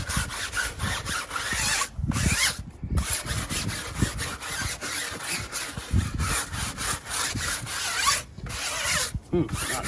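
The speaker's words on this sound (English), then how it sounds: "Go ahead and agitate that rubber cleaner." A brush scrubs rubber cleaner into a moderately dirty tire on a 2017 Jeep Grand Cherokee, making steady, rhythmic rasping strokes up close with brief pauses and no talking.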